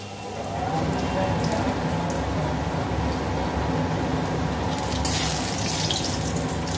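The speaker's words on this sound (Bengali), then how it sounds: "শুকনো লঙ্কা, কচা রসুন আর একটা কাঁচা লঙ্কা ভেজে নেব।" Dried red chilli, garlic and a green chilli frying in oil make a dense, steady, rain-like crackle. It swells up after a quiet start and holds loud and close with no voices.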